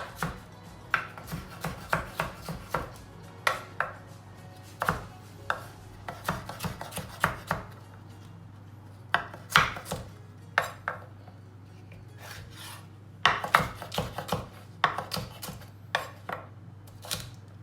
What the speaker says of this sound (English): So we chop everything roughly on the similar pieces like the carrots